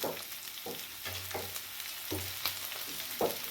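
Carrot and capsicum stir-frying in a pan for veg noodles, with a steady close sizzle and several sharp stirring scrapes and knocks at intervals.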